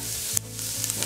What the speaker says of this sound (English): I'm gonna saute some aromatics. Start with some onion.